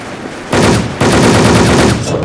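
Loud, rapid automatic gunfire in the online shooter Wolfteam rattles in dense continuous bursts, with a short gap before firing resumes.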